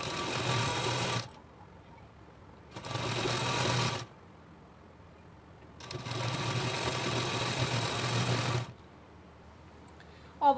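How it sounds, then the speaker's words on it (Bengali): A sewing machine stitches along folded cloth in three bursts of rapid whirring, each a second or more long, separated by quiet pauses, with the longest run near the end. "এরপরে চাপ বরাবর আপনাদেরকে সেলাই করে নিতে হবে"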